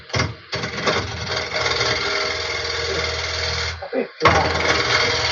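A wood lathe turns a rough-cut monkey puzzle bowl under a carbide tool, giving a loud, steady grinding whir with a low hum and a short pause near the end. A person speaks briefly over it.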